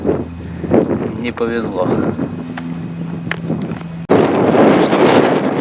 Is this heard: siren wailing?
no